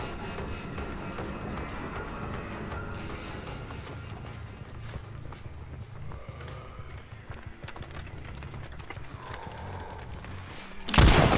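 The Deathslinger's spear gun fires in the horror game Dead by Daylight: a single loud, abrupt burst right at the very end, after a long stretch of busy, rumbling game ambience.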